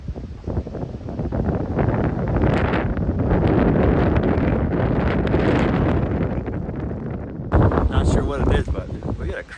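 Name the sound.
windstorm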